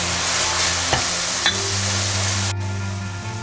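A butter and flour paste is stirred in a pan while milk is added for white sauce, giving a steady close sizzle with scraping stir strokes and a few soft clicks, then the hiss drops sharply near the end.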